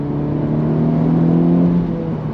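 A Honda Civic Type R GT driving, its engine pitch rising smoothly as the car accelerates, then easing slightly near the end. The engine is heard from inside as a steady, moderately loud hum with no talking.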